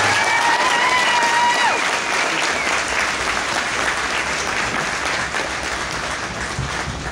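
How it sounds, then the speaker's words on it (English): A large crowd at an Army basic training family day at Fort Jackson claps for drill sergeants in dense, sustained applause, loud and continuous, with a faint tonal whine over the first two seconds. "give a special round of applause to these drill sergeants"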